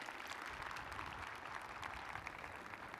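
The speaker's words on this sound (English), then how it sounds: "I'd like to give him a round of applause," Audience applause at the Rock Canyon High School 2020 graduation, a steady wash of hand claps that is fairly faint and distant, filling the whole stretch without letting up.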